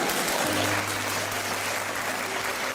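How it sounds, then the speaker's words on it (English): Audience applause, a dense, loud, continuous patter of many hands clapping together that holds evenly throughout. "You see, it's being applauded."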